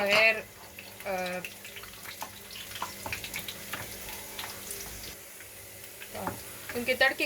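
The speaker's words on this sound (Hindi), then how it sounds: "अब घी अच्छी तरह गर्म हो गया है तो इसमें हम चॉप्ड गार्लिक डालेंगे।" Chopped garlic sizzles and crackles steadily in hot ghee in a pan, with brief stirring and scraping sounds and a few faint voices in the background.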